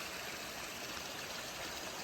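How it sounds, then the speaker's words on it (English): Water streams steadily off a rock and cascades into a pool beside a hiking trail, a close, constant broadband rush with no pauses and no voices. "Just kind of cascading off that thing into a pool and running down."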